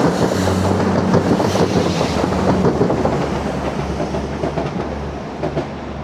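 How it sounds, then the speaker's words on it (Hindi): A train rolls along the rails in downtown Toronto near Bathurst Street, a loud and close steady rumble with wheel clatter and wind buffeting that eases slightly as it passes. "थोड़ी मैंने वेट किया है और ट्रेन आ चुकी है"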